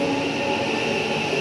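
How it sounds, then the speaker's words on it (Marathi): A Purple Line metro train pulls into a busy station, its steady rumble and rail hum continuous and close throughout the short stretch, with no voices over it. "आणि एवढ्यातच आली आमची पर्पल लाईनवाली मेट्रो"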